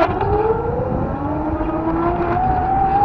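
A car driving alongside on the road, a loud continuous engine and tyre drone with slowly rising whining tones, steady and close throughout.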